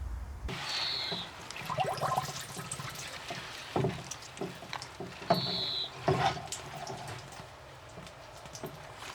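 Water splashes and patters onto soil around a newly planted exotic tree in a Yorkshire garden. The watering comes close by in irregular bursts with a few louder splashes, and no one speaks.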